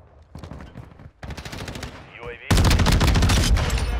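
Rapid automatic fire from a Tempus Razorback in a Call of Duty match, rattling bursts that grow louder and become a sustained, close, heavy stream of shots by the end.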